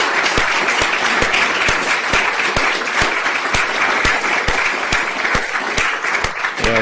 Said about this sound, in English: significant round of applause